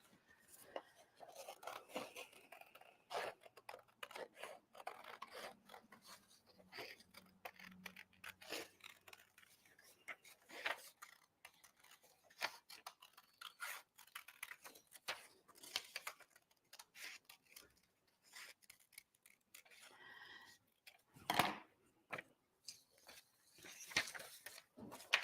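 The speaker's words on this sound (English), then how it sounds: "scissors, and cut out this template" Scissors cutting a paper template: quiet, intermittent snipping and crisp rustling sounds scattered across the clip, with brief pauses and occasional sharper clicks.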